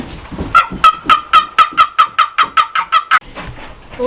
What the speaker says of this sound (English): But there's some turkeys over here, and Sean is calling them.